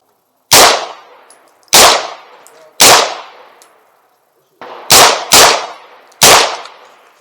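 Six sharp, loud gunshots from an Aero Precision EPC 9 pistol-caliber carbine fitted with a faux suppressor at a gun range, fired singly at irregular intervals with a short echoing decay after each.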